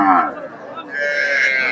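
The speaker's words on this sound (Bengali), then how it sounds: "দর্শক এখানে একটা ক্রসের গাভী দেখতেছি, দেশি ফ্রিজিয়ান ক্রস।" A pregnant local Friesian cross cow at the Dakumara cattle market gives a single loud, drawn-out moo close by, its tone shifting as the call goes on.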